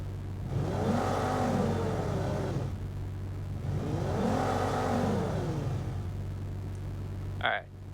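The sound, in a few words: engine sound effect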